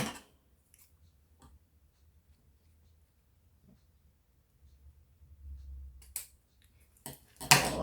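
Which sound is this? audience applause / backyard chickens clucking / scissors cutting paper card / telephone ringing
scissors cutting paper card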